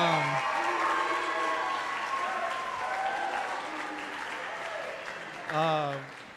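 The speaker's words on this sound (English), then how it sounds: "so we can give them a round of applause." Sustained audience applause fills a fall athletic awards ceremony, steady clapping from a crowd that swells briefly near the end as a voice speaks over it.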